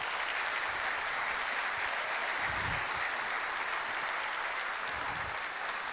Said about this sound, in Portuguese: Eu quero pedir um aplauso para o Vinícius.